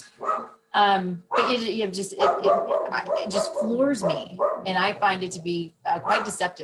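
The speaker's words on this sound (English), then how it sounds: "just, sorry about the dogs." Dogs bark and yip at a door in the background of a home setting while a person keeps talking steadily over them.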